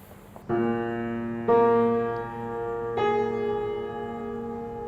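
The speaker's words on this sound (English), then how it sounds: "a dissonant interval of a seventh, which sounds like this" Sustained harmonic notes sound in three staggered entries, building a clashing, dissonant interval of a seventh from Walton's Symphony No. 1 that rings steadily without any voices.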